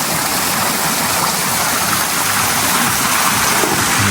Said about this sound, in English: You can swim up to this small waterfalls